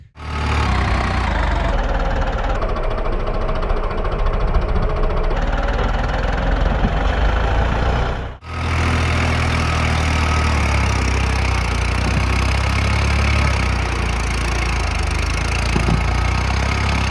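A Farmtrac 60 tractor engine runs under heavy field load, a loud, close, continuous diesel drone with a brief drop near the middle before it resumes just as strongly. No one speaks.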